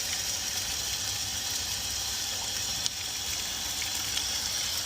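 Water rushes steadily through a Watts 007M3 ¾-inch fire-line backflow assembly during a clean-and-flush, a continuous broadband gush, close and fairly loud, with a single faint click near the middle and no talk.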